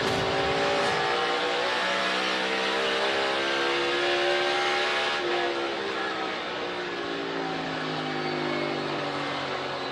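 NASCAR Cup Series race cars roaring around Richmond during a race, a dense continuous engine drone with shifting harmonic pitches as cars pass, loud and steady for the whole stretch.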